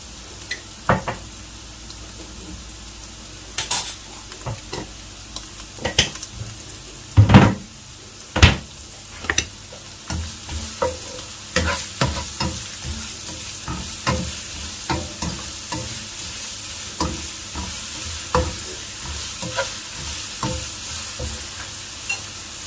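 Carrots frying with a tablespoon of sugar to caramelize for mutton Afghani pulao, a soft continuous sizzle broken by repeated spatula scrapes and knocks against the pan.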